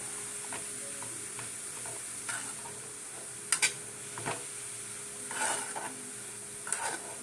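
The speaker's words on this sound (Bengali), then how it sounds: "গাজরটাকে একটু ঘিয়ে নাড়িয়ে নিচ্ছি" Grated carrots cook in ghee for a sweet milk pudding, a low soft sizzle broken by a few brisk scraping clatters of a spoon stirring against the pot, quiet and close.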